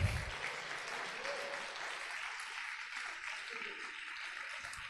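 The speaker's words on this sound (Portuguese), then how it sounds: "Dê uma salva de palmas para Jesus" Church congregation applauding for Jesus during a sermon, a steady wash of clapping that stays fairly even and moderately loud throughout, with a brief low thump at the very start.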